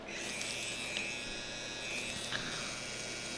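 A tattoo machine runs with a steady, continuous electric buzz while lining, close and even in level for the whole stretch, with no talking.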